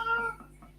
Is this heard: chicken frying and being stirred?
no